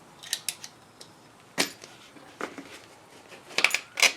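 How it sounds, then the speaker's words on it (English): A rubber hose on a Gravely Pro Turn 252 zero-turn mower is cut during an oil change. Several crisp, close snipping cuts come in an irregular series, with short pauses between them. "cut this hose off about right here"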